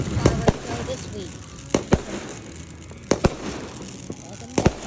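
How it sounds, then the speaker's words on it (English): Fireworks bursting outdoors on the Fourth of July: sharp cracks and booms arriving in pairs and small clusters, several distinct reports over a few seconds against a steady background of crowd murmur and wind. "This is the third fireworks show this week."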